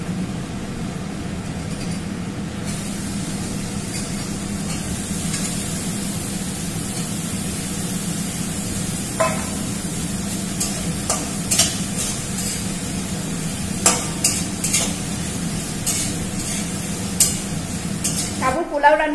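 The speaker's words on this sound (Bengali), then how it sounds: "এখন আলুটা দেব" Potatoes frying in a pan with ginger paste and spices for sabudana pulao, a steady soft sizzle under occasional scraping clicks of a spatula stirring, with brief talking.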